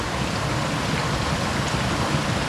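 Winter mountain stream in a snowy valley with dwarf bamboo, rushing water giving a steady broadband roar that holds constant throughout, close and fairly loud with no voices.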